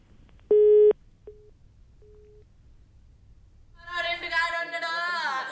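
A telephone line tone during a call, one loud sustained beep followed by two shorter fainter beeps, then a voice speaks over the line near the end.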